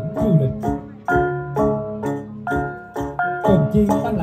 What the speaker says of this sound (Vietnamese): Tiếng cồng chiêng Tây Nguyên hòa nhịp âm vang như gợi cho người nghe thấy được cả một không gian